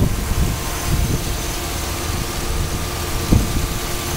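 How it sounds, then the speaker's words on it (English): 2006 Chevrolet Silverado LT with its 5.3-liter Vortec V8, idling steadily under the open hood, a close, even hum with a low rumble and a couple of faint knocks, no talking. "Got that Vortec engine under there."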